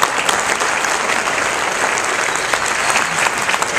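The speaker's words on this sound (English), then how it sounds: "Could you stand and get a round of applause?" Loud, sustained audience applause as private music teachers stand to be recognized before a youth symphony orchestra concert, a dense continuous crowd of clapping hands filling the whole stretch.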